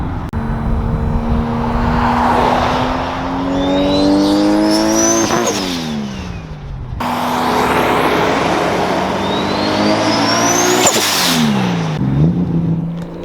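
A 700hp car roars past twice, engine revving hard as it climbs through the gears with clear pitch drops on each pass and upshift, loud and close with no talking.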